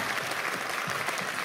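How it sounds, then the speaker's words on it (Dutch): Steady, dense applause from the audience at the Radio 2 Humorklas 2018 stand-up comedy final in Aalst, greeting the three finalists with a continuous wash of clapping throughout. "Geef een applaus voor de 3 finalisten, dames en heren."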